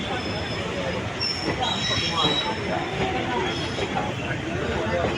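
A passenger train between Karur and Tirunelveli rolls along the rails with a steady, loud rumble, high wheel squeal riding on top throughout; voices murmur faintly beneath the noise.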